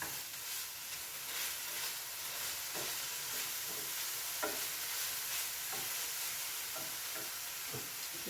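Lardons fry in a hot pan, giving a continuous sizzling hiss broken by several soft scraping stirs of a utensil, with no voices.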